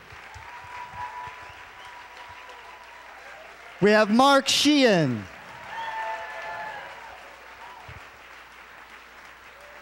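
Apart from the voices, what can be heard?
crowd applauding at launch event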